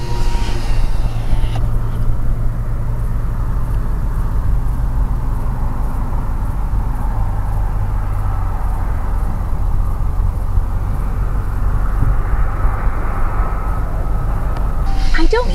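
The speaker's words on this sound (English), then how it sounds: "it's just freeway and vehicles" Steady freeway traffic heard from a desert wilderness spot, a continuous broad rumble of vehicles passing with wind-like hiss, loud and unbroken throughout.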